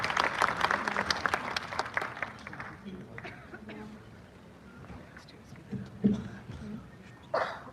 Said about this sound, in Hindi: तालियों के साथ उनका स्वागत करें।